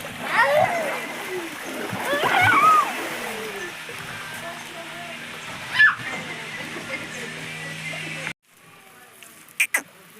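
Water splashes and sloshes while buffaloes are bathed at a farm well, with irregular close splatters and a running stream, as people talk throughout.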